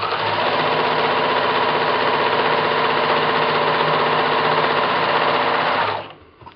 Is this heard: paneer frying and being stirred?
no